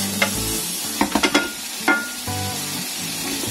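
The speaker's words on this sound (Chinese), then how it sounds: "咁啊炒到佢差唔多咧" Rice with meat and egg stir-fried in a pan over medium heat, a steady sizzle broken by a few quick scraping stirs and one sharp clatter, close and fairly loud, with no talking.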